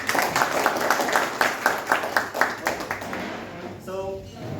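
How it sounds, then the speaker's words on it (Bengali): A meetup crowd in Chittagong gives a welcoming round of rhythmic clapping that fades out, followed by a brief voice. "এটা হচ্ছে শুভেচ্ছা করতালি"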